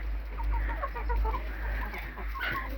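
Roosters clucking and murmuring in short repeated calls over steady low background noise, moderately close.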